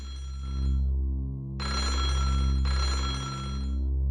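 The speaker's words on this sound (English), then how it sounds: "A phone was ringing somewhere else in the mansion." An old-fashioned telephone rings somewhere in a mansion, two long electric bell bursts separated by a short pause, moderately close and alone, over a low steady hum.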